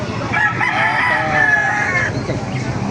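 White Kelso chicken, a 7-month-old hen, at a busy poultry market in Baliuag, Bulacan, with a rooster crowing loudly close by amid constant crowd and bird noise.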